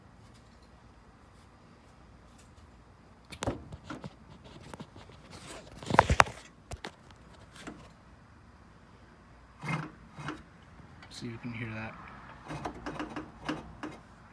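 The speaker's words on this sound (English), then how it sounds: "Yeah, that's like a knocking sound." Irregular knocks and clicks from the broken transmission of a 2003 Nissan Sentra Spec V, heard close up in scattered bursts with a louder cluster near the middle. A brief spoken remark comes before the knocking.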